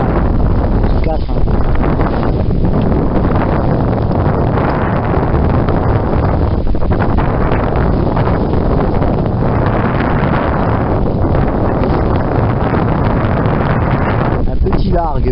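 Strong trade wind roars steadily across the microphone on a sailboat at night, buffeting it continuously while a voice talks underneath.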